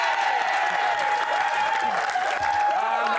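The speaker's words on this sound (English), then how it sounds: "just give him another clap" A studio audience claps for Roman Kemp at a television chat show, with a steady wash of applause running under someone talking over it.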